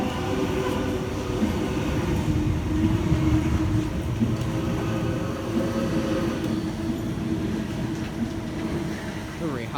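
A Sydney Trains Oscar set runs steadily past platform 4 at Erskineville during weekday peak hour on a Port Kembla service, giving a continuous loud rumble with faint rail clatter.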